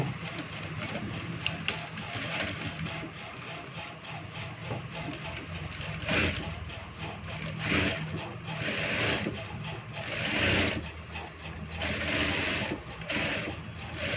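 A sewing machine runs in steady bursts while stitching a shirt collar, its rapid mechanical whirr rising and pausing, with a person speaking intermittently beneath it.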